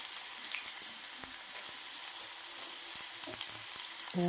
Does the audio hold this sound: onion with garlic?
yes